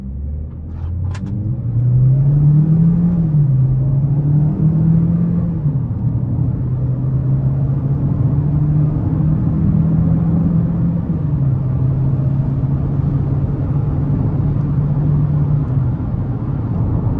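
A 2026 GMC Terrain AT4 AWD pulls away from a stop under hard acceleration, heard from inside the cabin: the engine note climbs and shifts through gears as a steady loud drone over road rumble.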